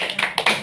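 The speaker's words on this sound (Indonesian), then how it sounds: "Tepuk tangan mantul." A few quick hand claps in a children's clapping game, short sharp slaps spaced irregularly within a brief moment, close and fairly loud.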